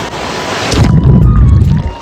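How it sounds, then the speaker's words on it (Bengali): Sea wave rolling in on the shore at Digha beach: a low, rumbling surge of surf builds after a moment and washes on steadily, with wind buffeting the microphone throughout. "ঢেউটা আসছে"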